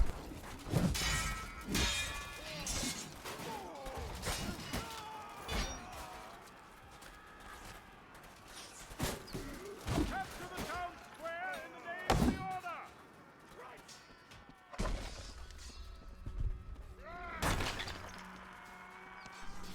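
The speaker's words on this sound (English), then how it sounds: "So the ballista just misses me." In Chivalry 2, a ballista bolt misses and smashes nearby with loud, sharp impacts and crashing debris, amid chaotic battle noise of clashing hits and shouts, with talk running over much of it.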